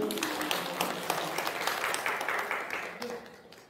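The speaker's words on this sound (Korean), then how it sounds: "박수 주세요." An audience claps during a talk on teaching ADHD students, a dense steady round of applause with some voices mixed in, tapering off near the end.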